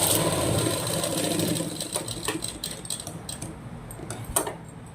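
A sewing machine stitches blouse fabric in a fast, steady whirr that drops off after a moment, leaving scattered light mechanical clicks and ticks.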